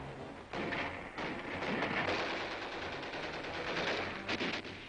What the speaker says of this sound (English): Artillery pounds heavy shells into Japanese positions on the ridges above.